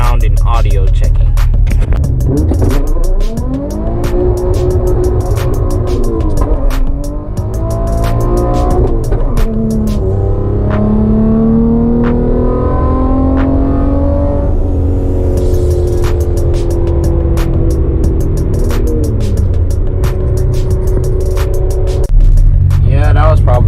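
Nissan 350Z with a dyno tune and newly fitted limited-slip differential, heard from inside the cabin as it accelerates hard through rising, loud engine pulls and gear changes, with tire squeal from a one-wheel peel.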